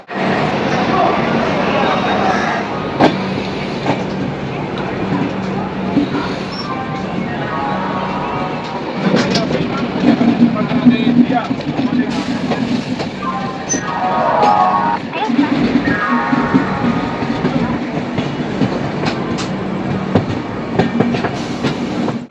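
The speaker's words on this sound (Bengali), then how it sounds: "ট্রেন কিন্তু আমাদের চলেছে এখন উজ্জয়নের পথে" A passenger train with sleeper and AC coaches runs from Kolkata toward Ujjain, giving a steady loud rumble and rattle of the carriages with rhythmic clickety-clack throughout.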